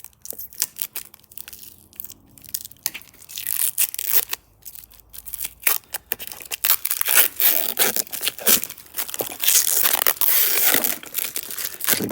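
Parcel tape torn and pulled from the roll while being wrapped as a clamp around a badly damaged wooden bat under repair: sparse crackles at first, then loud, dense ripping and crinkling that keeps building near the end.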